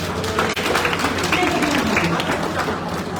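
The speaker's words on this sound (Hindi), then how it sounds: "चलो, इसके लिए जोरदार तालियां बजाओ बेटी के लिए।" Audience at a village gathering giving a loud, sustained round of clapping for a girl, dense continuous applause mixed with crowd murmur and voices throughout.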